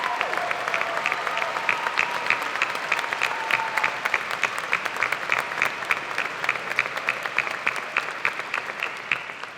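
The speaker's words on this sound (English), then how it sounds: "Please give them a round of applause." Sustained, loud applause from a large crowd at a Richfield High School graduation ceremony, a dense even roar of many hands with a faint rhythmic clapping pattern running through it, continuing unbroken throughout.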